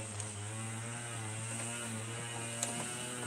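Steady mechanical hum of a sewing machine stitching a quilt strip down for a pineapple block, running continuously and fairly close with a faint motor drone, no voices.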